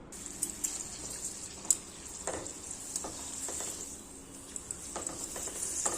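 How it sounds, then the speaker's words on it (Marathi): Sago and potato fasting papad frying in hot oil, a soft steady sizzle with small crackles and pops scattered throughout, faint and close, with no one talking. "हे बघा किती छान तळत येतो पापड"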